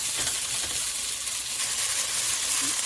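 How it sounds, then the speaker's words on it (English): Vegetables sautéing in olive oil in a pan give a steady, close sizzle and hiss that continues without a break. "I added 2 spoons of olive oil, and then all the vegetables in here, and then I'll let this saute for a few minutes"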